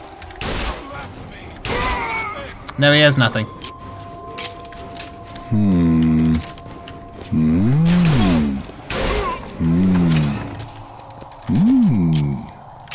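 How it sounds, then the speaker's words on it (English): Tommy gun fire in Bioshock Infinite: Burial at Sea, short bursts of shots scattered between game character voices and thuds, loud and close amid ongoing dialogue. "He's got a Tommy gun."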